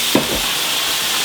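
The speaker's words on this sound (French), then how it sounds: "La goûteuse vodka. On flambe." A short burst of sizzling and hissing as vodka is flambéed in a pan of tomato sauce, a loud close whoosh followed by a steady fry.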